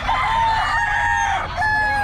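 A rooster crows loudly and close by, one long drawn-out call that dips briefly and resumes, over a dense background of other fowl.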